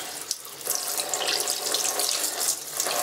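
Water runs steadily from a bathroom tap into a sink, a loud, close, continuous splashing rush with no voices.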